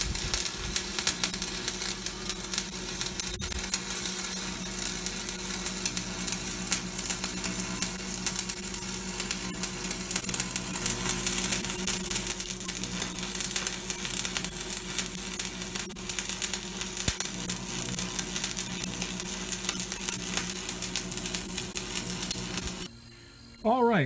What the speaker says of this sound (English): I'm going to clamp that in place and get it welded on